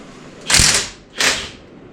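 A ratchet with a 3/8 socket clicks off sway bar cover bolts on a Jeep TJ, two short rattling bursts close by.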